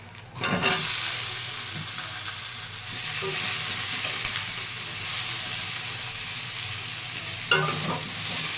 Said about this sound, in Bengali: ভেজে নেব এবার এঁচোড়টা